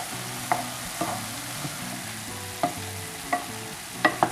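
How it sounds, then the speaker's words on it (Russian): A spoon stirs pide filling with ketchup in a hot pan, giving scattered scraping clicks and soft taps over a low steady sizzle, with no talking. "И перемешаю."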